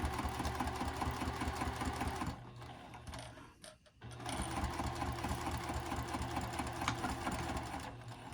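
A sewing machine stitches a wristlet clutch in two close, rapid mechanical runs separated by a short pause.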